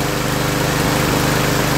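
A Craftsman lawn mower with a Briggs 7.5 engine, once seized, runs at a steady, loud, close idle with an even low throb and no voices.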